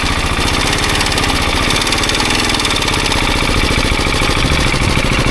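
A KTM 690 motorcycle engine runs under throttle on a rough country lane, a loud, close, steady chugging single-cylinder drone with no talk over it.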